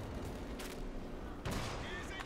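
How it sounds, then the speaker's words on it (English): Gunfire and artillery in a Company of Heroes-style video game battle, with a Valentine tank and British artillery opening fire: a dense, steady din of shots with a sharper burst midway, under faint voices. "Valentine tank opening fire"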